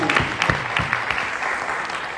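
Audience applause at a Vestige World Wide Dreamers anniversary event in Thailand, a dense steady clapping from a crowd filling the room, sustained and fairly loud with no talk over it.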